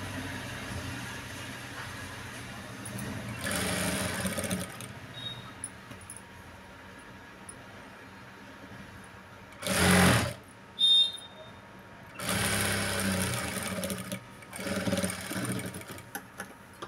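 A sewing machine stitches along the edge of a blouse lining in several short bursts of fast, whirring runs, separated by quiet pauses.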